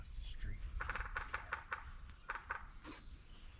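A wild turkey gobbles in a quick series of rattling calls, somewhat distant, over a steady outdoor background with no talking.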